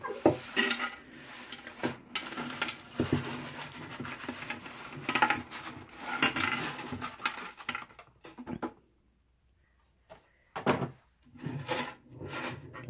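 A 16-ounce box of dry spaghetti gets handled and dropped into an Easy Lock plastic storage container, giving clattering, rattling knocks and rustles in uneven bursts, close by, with a short quiet gap before a few final taps.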